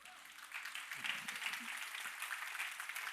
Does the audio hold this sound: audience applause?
yes